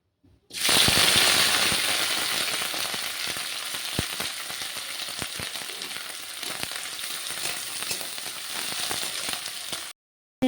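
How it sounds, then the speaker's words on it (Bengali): Dried fish (shutki) frying in hot oil in a pan gives a loud, steady sizzle with dense crackling pops. It starts abruptly, stays strong for about nine seconds, then cuts off. "শুটকি মাছগুলো ভেজে নেব।"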